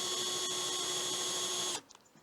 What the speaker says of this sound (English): you can either use it to drill all the way through